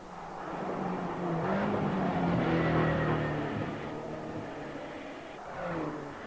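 Mini race cars in the AMS2 racing game at Brands Hatch drone at moderate volume, an engine note rising and swelling through the middle, then easing and picking up again near the end, with no voices.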